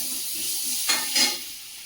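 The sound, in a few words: ridge gourd curry frying in a hot wok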